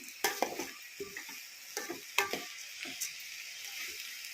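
Rice fries in ghee with a quiet background sizzle while a spoon stirs it, producing irregular scraping taps and clinks against the pan.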